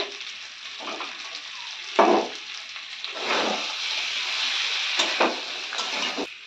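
Previously fried eggs go into a pan of potato curry, setting off repeated bursts of loud sizzling, five or six surges of hiss separated by quieter moments, close and without talk.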